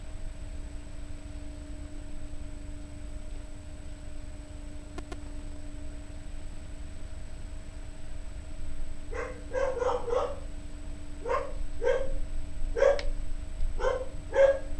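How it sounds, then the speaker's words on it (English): A puppy barks in the background in short repeated yips and barks, starting about two-thirds through after a quiet stretch with faint hum, growing a little louder toward the end. "you can notice the puppy in the background"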